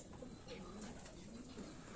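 Racing pigeons cooing softly in a loft, low repeated coos under a steady background hiss, faint and distant.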